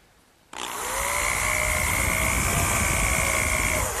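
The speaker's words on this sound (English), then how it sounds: "just drill a hole down into the side frame." A power drill bores a hole down into the side frame of a chair, starting abruptly after a quiet moment and running loud and steady with a high whine for several seconds.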